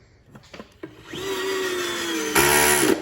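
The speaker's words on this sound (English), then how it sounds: "So where this screwdriver, power screwdriver, is kind of handy." A power screwdriver with a magnetic bit drives a screw into wood, starting after a few handling clicks with a steady close motor whine that rises in pitch and strains louder near the end.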